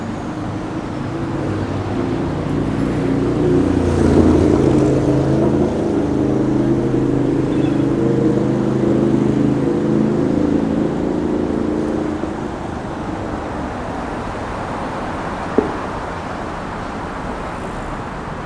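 Steady car traffic rumbles along both sides of the Brooklyn Bridge, a broad continuous roar that swells in the middle and then eases, with one brief sharp knock near the end.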